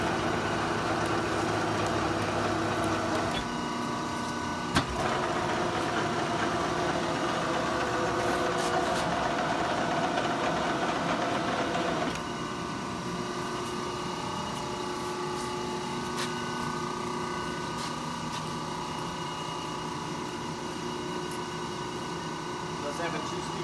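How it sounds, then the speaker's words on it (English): A large Monarch engine lathe runs with its cross slide on rapid traverse, a steady mechanical whirring hum that drops in level partway through, with a sharp click near the start and someone talking over it. "Now I'm going to do rapid traverse on the cross slide."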